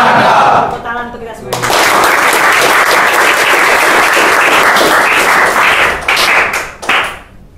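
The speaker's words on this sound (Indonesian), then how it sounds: "Tepuk tangan untuk kita semua." A school assembly audience bursts into loud, close applause, dense clapping with some thumps and cheering, running steadily for several seconds before tapering; a voice is heard briefly at the start.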